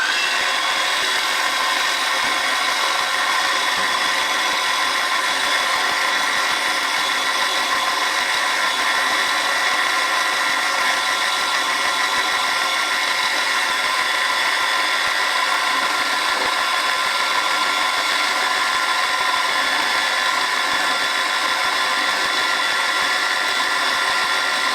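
A machine tool cuts a face on a small model steam pump body, giving a loud, steady, unbroken mechanical whir and cutting hiss that holds at the same level from start to finish.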